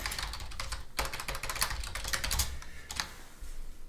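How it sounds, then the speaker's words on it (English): Fast, steady typing on a computer keyboard fills the stretch with dense, irregular key clatter and occasional heavier strokes, close and alone with no talking. "the worse I get at typing"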